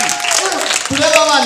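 Applause from a church congregation, a brief burst of clapping mixed with a preacher's loud voice and echoing speech.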